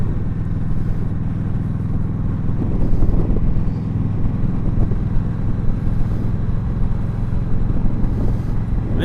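Red Indian Scout motorcycle cruising on an open road, a continuous loud engine rumble mixed with wind noise, steady throughout and without talk.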